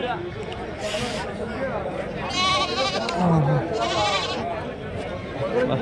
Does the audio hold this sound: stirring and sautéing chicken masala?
no